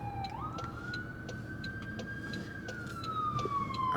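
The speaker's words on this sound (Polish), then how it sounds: "Czekajcie, bo gdzieś jedzie policja i nie wiem gdzie." A police siren wails as the car passes through a park area, its tone sweeping up, holding, then sliding down, moderately loud over steady outdoor background noise.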